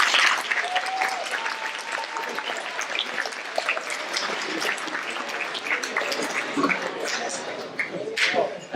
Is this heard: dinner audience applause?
yes